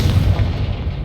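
A Confringo fire spell explodes in the Hogwarts Legacy video game, a loud, close, deep boom followed by a rumbling, crackling burst that fills the short moment.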